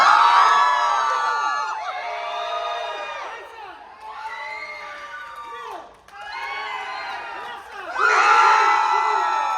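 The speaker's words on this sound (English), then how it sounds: "Make them cheer for you guys." A convention crowd at a Terrifier horror panel cheers, whoops and screams loudly in repeated swelling waves, one section of the audience after another, with brief dips between bursts.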